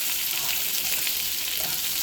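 Pancit bihon rice noodles sizzle steadily in a pan while being stirred, a close, continuous frying hiss with soft scraping and no pauses.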